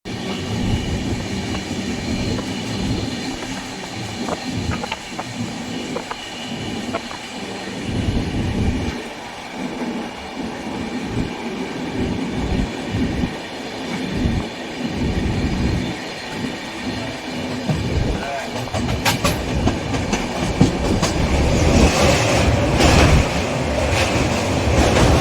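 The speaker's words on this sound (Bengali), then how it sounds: "এসে গেছে আমাদের ট্রেন, হাওড়া এসএমভিপি 12245, হাওড়া এসএমভিপি দুরন্ত ব্যাঙ্গালোর এক্সপ্রেস" The Howrah–SMVP Bangalore Duronto Express (12245) rumbles along the rails in a continuous, loud roar of wheels and carriages, with faint rhythmic clatter and a brighter, rising rush toward the end.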